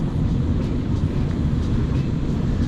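Train heard in an airport setting as a deep, continuous rumble, loud and close, with a steady low roar and faint rhythmic clicks on top, no voices.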